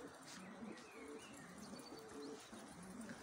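Soft cooing of pigeons taking off with scattered chirps over steady outdoor background noise, continuous and fairly faint throughout.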